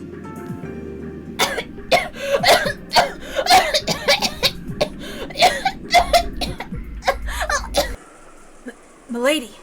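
A performer voicing the character Jessica from the Umineko visual novel imitates harsh, repeated coughing fits, with bursts of hacking and throat clearing in an irregular run, close and loud, then a brief quiet before a final cough.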